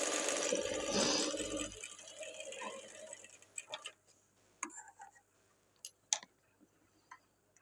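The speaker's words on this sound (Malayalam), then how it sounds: "ഈ തുണിയുടെ മേലെ വെച്ചൊരു തയ്യൽ." A sewing machine stitches blouse fabric, starting with a loud continuous whir for about two seconds, then dropping to scattered ticking clicks and short mechanical taps in a quieter room.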